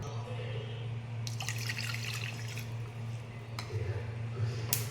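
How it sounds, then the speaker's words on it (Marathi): Water splashes and pours into a pan of sugar, with a few bursts of trickling and dripping over a low steady hum in the background. "आता ही साखर आणि इतकंच पाणी घालू"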